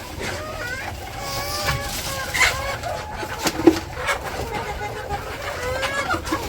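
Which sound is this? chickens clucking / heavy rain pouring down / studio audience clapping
chickens clucking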